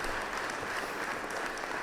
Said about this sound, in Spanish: Y ahora sí estamos escuchando como aplauden